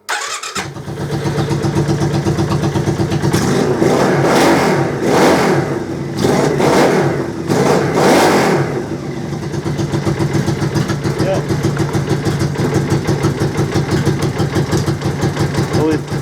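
A trike engine cranks, catches and starts, revving up in a few loud surges before settling into a steady, rough idle close by; someone speaks briefly near the start.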